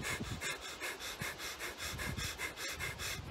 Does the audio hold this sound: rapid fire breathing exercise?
yes